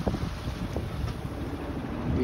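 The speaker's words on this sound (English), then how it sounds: "Winds are starting very light." Light wind and soft water noise aboard a sailboat on the Atlantic Ocean in light downwind conditions, a steady low rumble of wind buffeting the microphone with gentle wash beneath, close and continuous.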